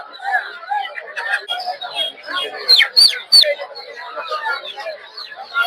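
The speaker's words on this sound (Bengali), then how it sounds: "দেখতে পাচ্ছেন লেয়ার মুরগি।" Layer chickens cluck and chatter at a busy village market, a dense mix of bird calls with a few sharp, louder squawks near the middle, alongside crowd noise.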